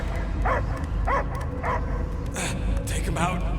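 Dog barking and yipping in the Guardians of the Galaxy video game, three or four sharp barks in a row followed by whimpering yips, mixed with game voices talking.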